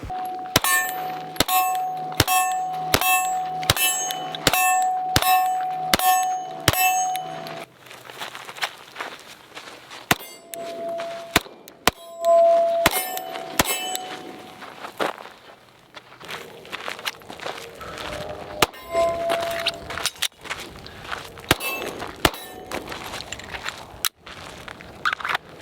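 ZEV Z365XL pistols fired at steel targets, with quick follow-up shots sounding as sharp cracks and metallic rings in fast rhythmic strings, a dense volley first and then scattered bursts.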